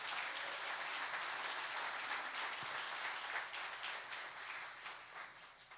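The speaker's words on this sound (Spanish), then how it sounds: "Dele un aplauso al Señor" Congregation applauding during a church service, a steady, dense wash of clapping that fills the whole stretch and tapers slightly at the end, with no voices over it.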